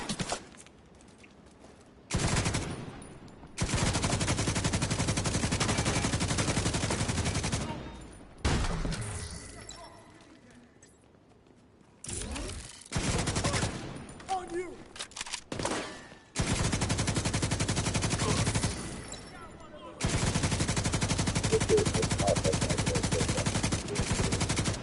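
Video game gunfire crackles in dense bursts of rapid automatic shots, loud and close, broken by short quiet gaps and a few softer stretches.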